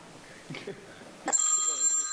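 An electronic phone ringtone suddenly starts and keeps sounding in steady, bright tones, loud and close, after a moment of faint background noise.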